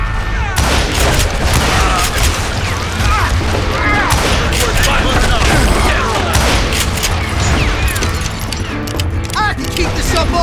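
A shootout in the video game Call of Juarez: Gunslinger, with dense, loud gunfire cracking in rapid overlapping shots and thuds throughout, joined by intermittent speech.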